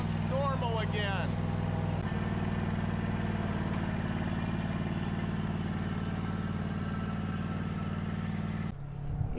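A car engine idles with a steady, even low hum for several seconds, cutting off abruptly near the end.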